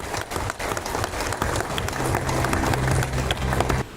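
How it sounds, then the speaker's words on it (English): Applause from an audience at a government project launch for sustainable farming, a steady broadband patter of clapping lasting throughout, with a low hum underneath. "Applause, please."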